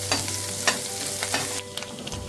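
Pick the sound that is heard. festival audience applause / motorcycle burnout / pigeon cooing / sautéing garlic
sautéing garlic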